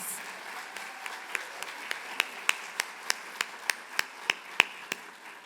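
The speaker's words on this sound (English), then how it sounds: "another round of applause" Slow, evenly spaced claps ring out, about fifteen sharp hits in a steady rhythm, fairly faint against a quiet room.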